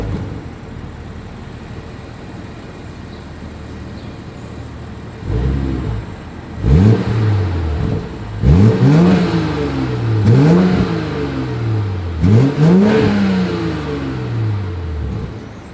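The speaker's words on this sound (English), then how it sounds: "As always, here is that exhaust clip." A 2022 BMW 740i's exhaust revs repeatedly after a quiet idle, with about five sharp blips rising and falling in a steady rhythm, close and loud.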